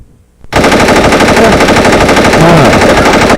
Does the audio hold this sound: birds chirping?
no